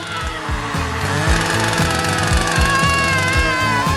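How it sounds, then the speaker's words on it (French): A loud, steady mechanical buzzing with a repeating low thudding pulse, like a power saw cutting continuously, heard up close with no talking. "Oh, avec une scie, range-la."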